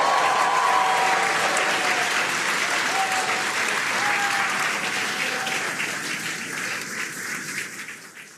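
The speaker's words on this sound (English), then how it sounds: "And that's the cheering." Audience applause and cheering after a crew capsule splashdown, a dense continuous wash of clapping that holds steady and then slowly fades toward the end.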